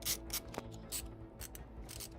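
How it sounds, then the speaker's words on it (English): Screws being driven back into a gaming console or computer during repair, a soft close clicking and ratcheting of a screwdriver in short, irregular turns. "Now we get to put all of these screws back in."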